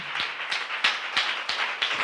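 An audience clapping in a church sermon setting, a thin scattered round of claps at an uneven rhythm, fairly close and moderately loud with no talking.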